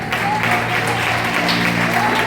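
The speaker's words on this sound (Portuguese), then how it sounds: "Dê uma salva de palmas para Jesus" A church congregation claps steadily throughout, a dense, continuous wash of applause for Jesus with faint voices mixed in beneath it.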